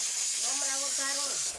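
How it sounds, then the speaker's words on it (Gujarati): Hissing of a pressure cooker whistle on a home stove, a loud continuous steam hiss lasting the whole moment, with a voice speaking underneath it. "સિટી નો અવાજ ચાલુ છે"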